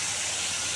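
Fish sizzle as they fry in hot oil for a curry, a steady loud broadband hiss with no talk over it.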